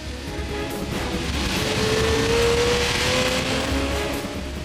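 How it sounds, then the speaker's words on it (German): A Lamborghini Murciélago V12 sports car accelerates hard out of a corner at the Adenauer Forst section, engine note rising steadily through a shift into third gear, loud and sustained with a rising whine. "Herausbeschleunigen am Adenauer Forst. Der 3. Gang schnalzt in die Schaltgasse."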